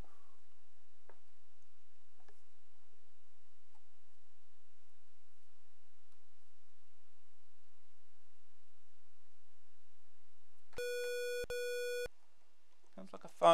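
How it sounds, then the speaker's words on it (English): A telephone rings in an Amstrad computer game, a buzzy electronic tone with stacked harmonics sounding in two short bursts, loud and clear against near silence, followed by a brief spoken voice. "Sounds like a phone."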